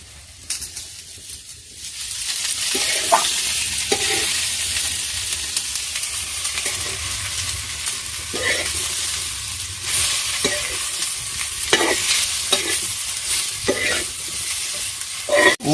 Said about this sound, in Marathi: तव्यावर तळून घेते तेल टाकून.